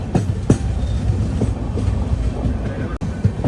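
Pinakini Superfast Express running on rails between Chennai and Vijayawada, a steady loud rumble of wheels and carriage noise with periodic clicks from rail joints, heard up close from inside the moving train.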